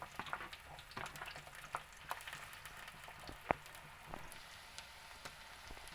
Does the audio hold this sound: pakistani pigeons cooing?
no